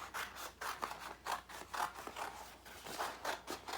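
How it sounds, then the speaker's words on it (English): Scissors snip steadily around paper apple shapes cut out for a craft headband, the blade closing in a regular rhythm of about two cuts per second, close and clear with no talking. "You are gonna cut around your apples"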